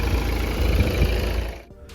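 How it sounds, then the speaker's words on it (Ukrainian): A 2015 Volvo S80 2.0 D4 diesel engine running near, a steady low clattering idle that continues evenly before dropping away sharply near the end. "Двигун працює гарненько, чистенько"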